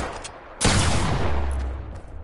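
Deagle and shotgun fire in the video game Fortnite: a sudden loud blast breaks a quieter game backdrop, followed by a sustained roaring rumble that tapers off, with a few faint sharp pings.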